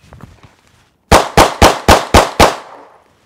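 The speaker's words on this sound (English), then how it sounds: "now I just fired 6 shots." Six gunshots crack in quick succession, evenly spaced about a quarter second apart, very loud and close, each with a short ringing tail, after a few faint clicks and handling noises.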